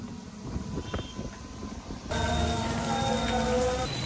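Rain falls steadily, the hiss growing louder and denser partway through, with a faint hum underneath.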